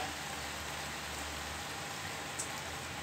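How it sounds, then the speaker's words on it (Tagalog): Steady rain falls outside, a continuous soft hiss with no breaks and no voices. "Umuulan pa rito sa amin."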